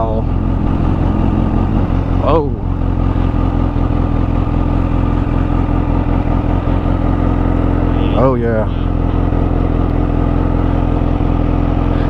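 Kawasaki Ninja H2 from 2019, a supercharged sport motorcycle, whose engine drones loud and steady throughout while being ridden, with a couple of brief shifts in pitch, and a voice talks over it.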